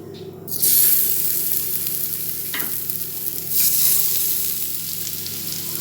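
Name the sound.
eggs frying in oil on an iron dosa pan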